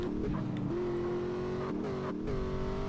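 A car engine in GTA San Andreas hums and revs steadily, its pitch climbing and dropping with short breaks like gear changes, loud and close throughout.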